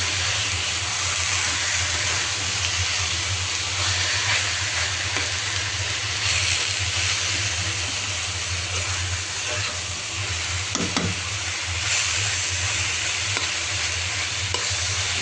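A pan of six or seven kinds of mixed leafy greens fries with a steady, close sizzle and occasional stirring scrapes, unbroken and without talking.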